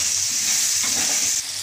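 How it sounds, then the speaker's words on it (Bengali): Potato pieces frying in oil with turmeric and salt, a loud, steady close-up sizzle with a faint scrape of stirring, no voices. "এবার আমি আলুগুলো ভেজে নিচ্ছি, এর সাথে একটু হলুদ দিয়ে দিচ্ছি আর একটু নুন দিয়ে দিচ্ছি।"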